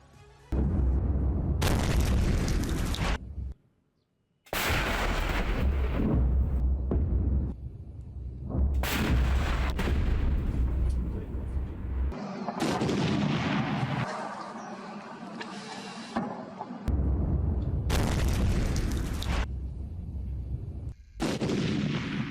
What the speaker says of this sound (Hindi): अब देखिए और सुनिए वो 10 धमाके